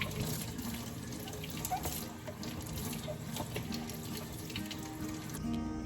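Water runs steadily from a tap while thrifted wooden bookshelves are washed, a continuous close splashing rush with no voices.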